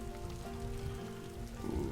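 Steady rain patters across the scene in the zoo-building game Planet Zoo, a dense, even hiss of drops hitting surfaces that holds throughout with no voices over it.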